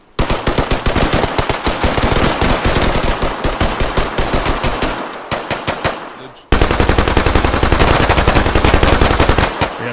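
Suppressing machine gun fire in a first-person shooter game: loud, steady automatic bursts that rattle on for seconds, break off briefly, then resume at full intensity, close and dominant.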